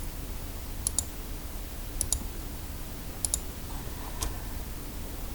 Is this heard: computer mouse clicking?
yes